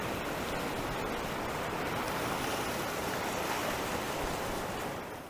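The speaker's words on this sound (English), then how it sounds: "The waves are coming in too much now." Ocean waves roll steadily onto a beach, a constant loud wash of surf with wind noise across the microphone, fading slightly at the very end.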